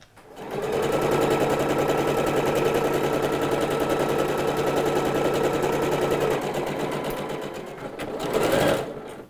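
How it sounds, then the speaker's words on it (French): A sewing machine stitches two pinned pieces of a kimono blouse together, a loud, close, continuous rapid chatter running nearly the whole time and briefly speeding up near the end. "Et on va maintenant passer à la machine pour piquer nos deux épinglages."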